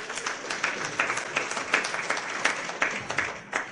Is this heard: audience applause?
yes